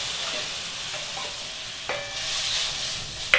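Tomato, onion, chili powder, turmeric and salt frying in a pan for a dried fish dish, a steady soft sizzle with a couple of sharp spatula scrapes, close and alone with no voices.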